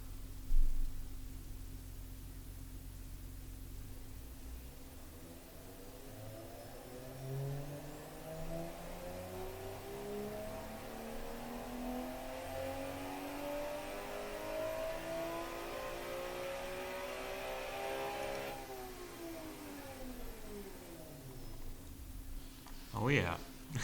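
A simulated inline-six turbo engine in the Automation car game revs steadily upward, its tone climbing smoothly for many seconds before dropping back, then a short burst at the end; loud and continuous with no talk over it.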